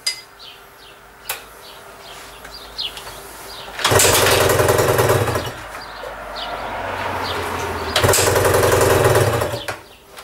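A Suzuki ER21 engine under repair cranks with a few sharp clicks and clunks, then bursts into loud running twice, each run lasting several seconds with a steady throbbing drone before cutting off, with no talking.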